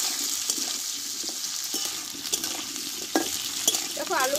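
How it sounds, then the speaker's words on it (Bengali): Potatoes stir-fried over low to medium heat hiss steadily in the pan, with frequent spatula scrapes and light knocks close by. "দেখো আলুগুলোকে লো টু মিডিয়াম আঁচে কষে নিতে হবে"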